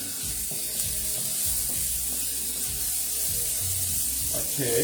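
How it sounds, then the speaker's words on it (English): Onions fry in a pan during a stir-fry, giving a steady loud sizzle throughout with scattered stirring clatter, and a voice briefly speaks over it. "Let's just fry in the onions."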